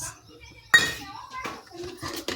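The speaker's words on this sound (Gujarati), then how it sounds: "તો જો અહીંયા થાળી એક છે ને ખાંડ લીધી છે એ હવે નાખી દઈશ." Sugar is tipped onto a metal plate (thali) in a kitchen, giving a sudden bright clatter and grainy rattle, then lighter clinks, while someone talks.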